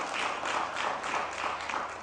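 Audience applause at a heart health talk, a steady patter of many hands clapping at moderate distance, continuous and fairly even for a couple of seconds.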